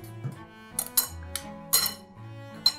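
Tuna and bean salad with olive oil being mixed in a bowl, a few sparse close clinks and scrapes of a utensil against the bowl over quiet background tones.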